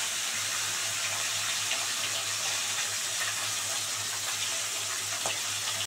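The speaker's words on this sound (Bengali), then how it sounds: "আর ভোলা মাছগুলো একদম কড়া করে ভেজে নিতে হবে," Bhola fish deep-frying crisp in hot oil, a steady, even sizzle and crackle holding at close range throughout, with no voices over it.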